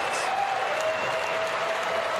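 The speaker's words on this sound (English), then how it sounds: "why is Kristen Cinema clapping?" Sustained applause fills a large chamber at the State of the Union address, a dense, even wash of many hands clapping with no break.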